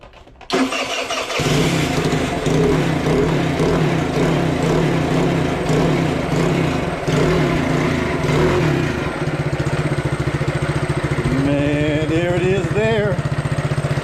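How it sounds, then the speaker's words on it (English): Small scooter engine cranking and catching with the choke off, then a loud close idle with rhythmic firing pulses and a brief rev near the end, with people talking over it. "let's try it again with the choke off. Give it a little gas."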